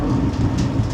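Heavy rain roars steadily with a deep rumbling undertone, loud and continuous, during a downpour with flooding near a mall.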